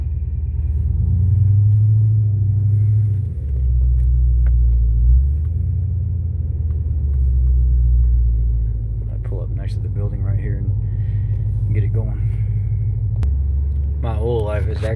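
A Lincoln Town Car engine idles with a deep, steady rumble, its RPM rising and falling in a few slow revs inside a shop. Voices talk over it now and then.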